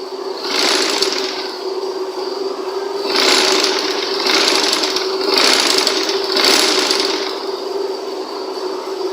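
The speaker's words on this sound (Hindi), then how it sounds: "अब हमने सिलाई मशीन की मदद से ये साइड वाला कपड़ा फोल्ड करके यहाँ पे सिलाई" A sewing machine stitching folded side fabric for a shirt's round neckline: rapid mechanical whirring in several bursts of about a second each, with quieter pauses between, close and alone.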